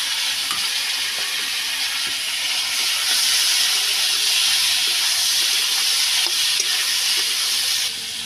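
Bitter gourd, potato and onion fry in fish oil, giving a continuous close hiss and sizzle that swells slightly partway through, with no voices.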